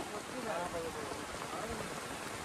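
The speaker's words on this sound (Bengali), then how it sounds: "এত বৃষ্টির জন্য ভিডিও করতে পারছি না, মাছও ধরতে পারছি না, তাই তো রুমন কি করবো?" Steady rain falls outdoors near a muddy fishing spot at a market area, a dense even patter of drops on surfaces that continues without break throughout.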